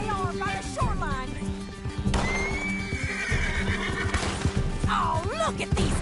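A horse in the Western video game Red Dead Redemption 2 lets out sharp whinnies and snorts over quick, thudding gallop hoofbeats, with clatter and other game sounds mixed in.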